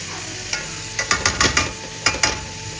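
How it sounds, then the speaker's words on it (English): A spoon stirs Italian cannelloni filling in a frying pan, scraping in a quick run of distinct strokes over a steady sizzle, close up and without speech. "Stirring."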